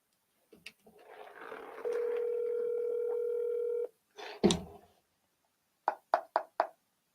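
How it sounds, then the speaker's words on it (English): Phone call placed to a seller: a steady electronic ringback tone holds for about two seconds, followed by a burst of noise and several short beeps, all fairly quiet with no talking. "So let me call Glenn really quick."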